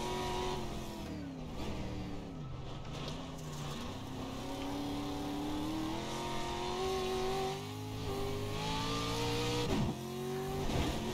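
A car engine drones and revs in an off-road racing video game, its pitch climbing and dipping through gear changes at a low, steady loudness with no talk over it.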